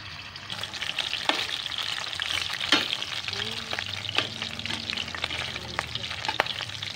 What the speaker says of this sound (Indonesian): Minyaknya udah panas ya. Mama mau goreng dagingnya.